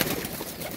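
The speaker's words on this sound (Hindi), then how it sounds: "एक एक कबूतर का आपको डिटेलन शौक करवाएंगे माशाल्लाह।" Teddy pigeons cooing at close range, a soft steady murmur of low coos that runs through the short moment with no voices over it.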